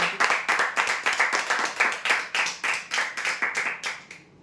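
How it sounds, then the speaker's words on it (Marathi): Loud, rhythmic applause breaks out for prize winners at a weekly lucky-draw event. Many hands clap together in a steady beat for about four seconds, then stop abruptly. "जोरदार टाळ्या"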